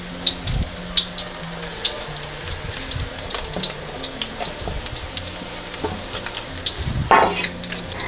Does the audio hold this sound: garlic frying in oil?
yes